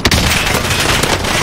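Dense burst of rapid gunfire in Call of Duty Warzone, loud and continuous over a second and a half with a sharp opening crack.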